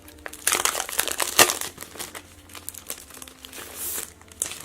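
A handmade card is drawn out of crinkly plastic packaging, giving close, loud bursts of crackling and crumpling that rise and fall unevenly, with no talking.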